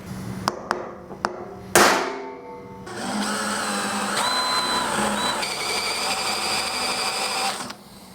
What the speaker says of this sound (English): you can use a center punch and drill these rivets out